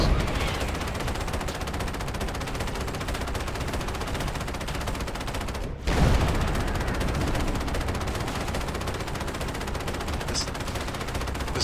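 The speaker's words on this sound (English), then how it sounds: "coaxial machine gun is just not good" Sustained automatic fire from a tank's coaxial machine gun in Halo: Combat Evolved, a dense continuous rattle with a brief dropout midway before resuming, loud and steady throughout.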